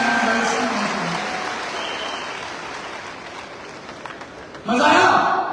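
A seminar audience at a network-marketing event in a hall bursts into loud, close applause near the end, honoring the backend team behind a relaunched app, after a stretch of amplified talk and crowd murmur.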